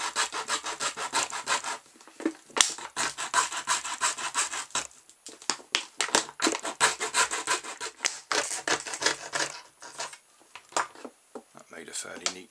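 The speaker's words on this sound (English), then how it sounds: "we're just cutting the top off this bottle. Just the threaded bit." A saw cuts the threaded neck off a plastic pop bottle in quick, rhythmic back-and-forth strokes, loud and close, with a few brief pauses between bursts of rasping cuts.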